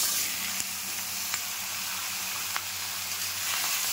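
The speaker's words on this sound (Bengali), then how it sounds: "এবার আমি সবজিটা দিয়ে দেবো।" Chopped bottle gourd frying in a hot pan with green chilies, a steady loud sizzle and hiss with a few sharp taps of stirring, no voices.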